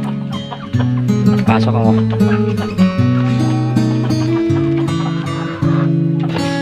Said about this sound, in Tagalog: Tsaka mga chicken meron din dito.